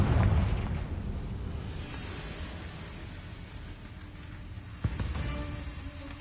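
Confringo blasting spell going off in Hogwarts Legacy, a loud deep explosion that fades into a long rumbling decay, followed a few seconds later by a second, sharper crack and boom.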